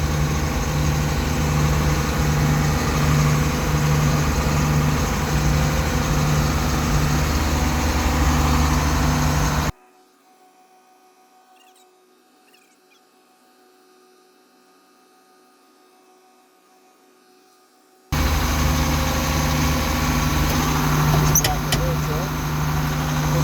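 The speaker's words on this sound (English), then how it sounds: "I'm probably just going to let this idle here for a while." A John Deere 6620 sidehill combine engine idles steadily with a broad, even drone, cutting out for several seconds midway before the same running sound returns.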